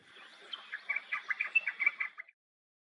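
Young birds chirp in a quick series of bright, overlapping tweets, fairly close and building for a couple of seconds before stopping abruptly, with no talking.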